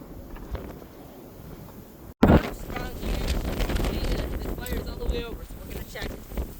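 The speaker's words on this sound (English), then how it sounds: "Look at all that wind is stirring up the dust on the newly plowed fields." Strong wind sweeps over newly plowed farm fields, kicking up dust, and buffets the microphone in a loud rushing roar after a brief cut, with voices talking over it.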